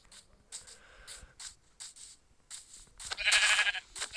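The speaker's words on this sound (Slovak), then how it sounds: "Tam vidím ovcu." Sheep in the Minecraft video game bleat in a few short bursts with gaps between, followed by a louder bright rush near the end.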